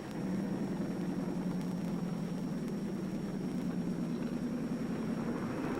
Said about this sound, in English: Listen to that baby purr